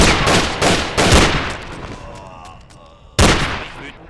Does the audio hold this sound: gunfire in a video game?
yes